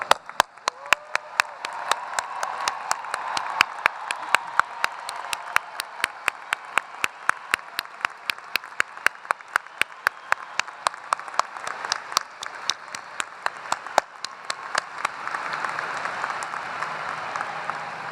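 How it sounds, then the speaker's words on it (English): A large audience at a University of Cincinnati commencement applauds the graduating class of 2014, sustained clapping with a few sharp, loud claps standing out near the microphone, swelling slightly toward the end. "Class of 2014, please rise so that we can give you a round of applause."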